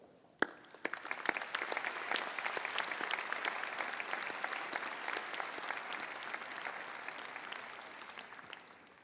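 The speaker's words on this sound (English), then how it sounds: "please thank her for her contributions to our university with our applause" University convocation audience applauding to honor a donor, a sharp first clap then a broad sustained patter of many hands in a large hall, steady and moderately distant before slowly tapering off.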